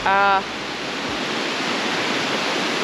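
Upper Falls waterfall roars in a dense, steady rush of white water close by, after a brief tonal sound at the very start.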